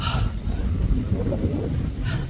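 Steady outdoor wind rumbles across the microphone, a low blustery roar that holds throughout with no voices.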